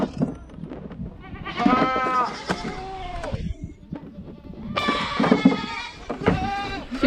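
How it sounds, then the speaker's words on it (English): Several goats bleat loudly and insistently before grain feeding, overlapping cries in two bursts with brief pauses between, close by. "If you've ever wondered what it sounds like before I give my goats my grain, this is it."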